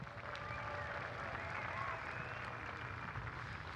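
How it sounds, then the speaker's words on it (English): Crowd applause at a dirt speedway during a racing event, a steady broadband patter of clapping heard from a distance, fairly faint, with faint crowd murmur and a voice mixed in. "One more time, give them all a round of applause"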